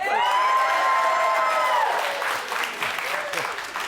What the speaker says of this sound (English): Round of applause once again for Mr. Kevin Magri